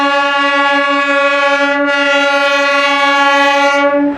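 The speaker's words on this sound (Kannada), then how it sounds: "ಸೊ ಇದು ಡೀಸೆಲ್ ಇಂಜಿನ್ನು ಟ್ರೈನು." The diesel-engined Darjeeling toy train sounds a long, loud, tonal horn blast, held steady for about four seconds close by, with no talking.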